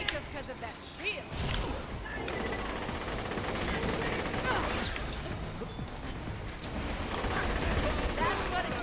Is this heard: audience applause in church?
no